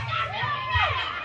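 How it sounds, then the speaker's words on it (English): An indoor wrestling crowd cheers and chatters in a steady, muffled roar, while a voice rises and falls over it. "You hear all these people still cheering for me?"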